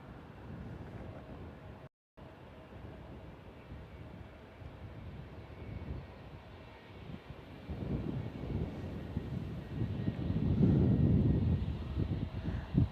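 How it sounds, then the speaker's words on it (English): A United Airlines Boeing Dreamliner airliner landing at San Francisco International Airport, a steady distant jet rumble with wind noise that swells louder toward the end as it nears, heard without talk. "We have a Dreamliner coming in right now. That's United Airlines Dreamliner."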